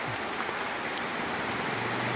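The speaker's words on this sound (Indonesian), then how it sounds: "ini malah hujan ya teman-teman" Rain falls steadily on a remote old Javanese village deep in the forest, a soft, even wash of hiss with no distinct drops standing out and no one speaking.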